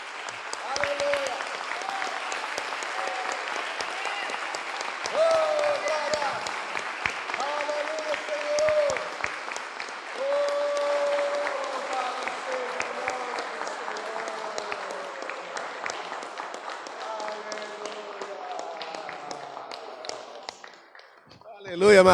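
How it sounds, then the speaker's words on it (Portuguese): Congregation in a church service applauding steadily for over twenty seconds, a dense wash of claps under sung or shouted voices and a held musical tone, fading briefly near the end before a final burst. "dê um aplauso bem forte ao Senhor"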